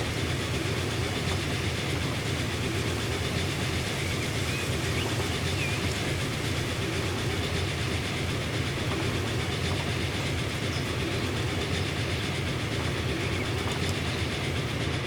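A train in Transport Fever 2 passes in a steady, continuous rumble with a faint clickety-clack, holding an even, loud level throughout with no talking.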